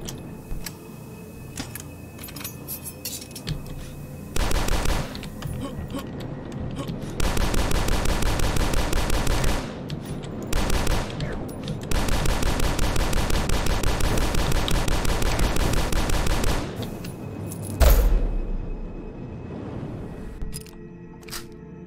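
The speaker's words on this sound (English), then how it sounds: "Still shooting at me, eh?" Sustained rapid gunfire in the video game Dusk, long loud bursts of continuous shooting with brief gaps between them, dense and close, with no talking over it.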